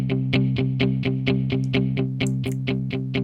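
An electric guitar from the Korg Gadget 3 Santa Ana rhythm guitar app plays steady, evenly spaced chugging chords through a heavy distorted tone with built-in reverb, bright ringing overtones sustaining between each strike.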